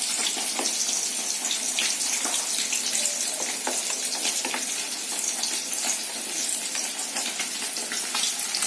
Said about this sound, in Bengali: আর এদিকে আমার মাছ ভাজাও হচ্ছে কড়াতে